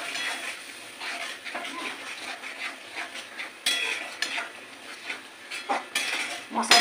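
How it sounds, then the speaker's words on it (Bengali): Spice masala with turmeric being stirred and fried in oil in a metal pan, for a Bengali doi katla (rohu fish in yogurt) dish: steady close scraping and clinking of a spoon against the pan with faint sizzling, no talk. "এই মশলাটাকে আমি ভালোভাবে কষিয়ে নেবো"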